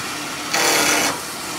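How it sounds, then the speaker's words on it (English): A small 6 mm (1/4 inch) bowl gouge roughing down a spinning workpiece on a wood lathe, giving one brief half-second burst of broadband scraping hiss over steady motor hum. "We're going to start by roughing down with a small bowl gouge"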